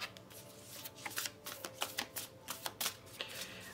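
Tarot cards being handled and turned over during a reading, giving a run of soft, papery flicks and slaps at close range over a faint background hiss, with no talking.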